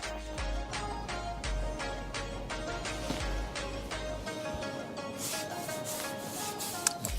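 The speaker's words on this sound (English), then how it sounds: "When brushing over, even as second coats, on smooth and shiny surfaces, avoid as much as possible going over too many times." A paintbrush spreads chalk paint over the smooth, shiny surface of an old table in repeated close strokes, making a continuous dry swishing and scraping that stays even throughout, with no voices.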